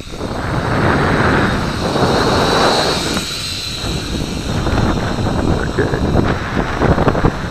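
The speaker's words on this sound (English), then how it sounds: "The wind's just picking up too much." Wind buffets the microphone of a Syma X5C quadcopter drone flying on a windy day, a loud continuous rumbling roar that gusts and surges throughout, layered with the faint whine of the small rotors.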